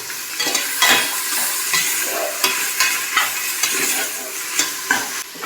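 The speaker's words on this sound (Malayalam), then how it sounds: "ഇനി നമുക്കതിലേക്ക് അരിഞ്ഞ് വെച്ചിട്ടുള്ള സവാള ചേർത്ത് കൊടുക്കാം" Chopped onions for beef biryani sauté in a hot pan, a steady loud sizzle broken by repeated scraping stirs of a spatula against the metal, with no voices.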